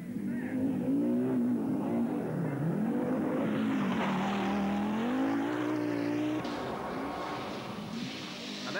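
Four-wheel-drive Audi Quattro rally cars race around the Castle Combe circuit during the 1983 Lombard RAC Rally, their engines droning and rising in pitch as they accelerate and pass by fairly close.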